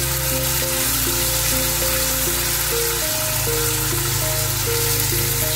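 Grated tomato sizzles steadily in a hot pan, a dense crackling hiss that stays loud and even throughout.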